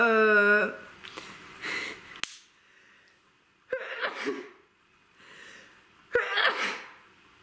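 A woman sneezes three times indoors, each a sharp close burst separated by quiet pauses of a second or more, with a brief voiced sound at the start.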